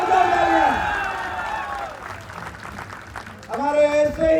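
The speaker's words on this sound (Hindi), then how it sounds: "जोरदार तालियां।" A large audience gives loud applause at a public gathering in Kutch, Gujarat, with clapping and crowd noise swelling between stretches of an amplified voice on a PA system.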